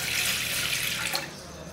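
Steady running water from a tumbler being poured into a cooking pot set on a stove, a close, continuous splashing stream that tapers off near the end.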